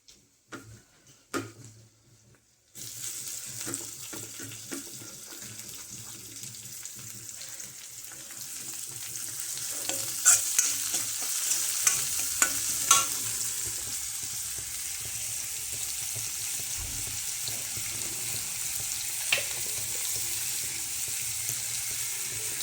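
Garlic and onion frying in oil in an iron kadhai for a village-style potato curry, a quiet start with a few clinks before a steady sizzle takes over, punctuated by scattered spatula taps and scrapes, no voices.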